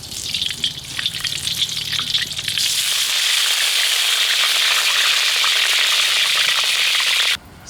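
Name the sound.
cow ghee sizzling in a pan for chicken ghee roast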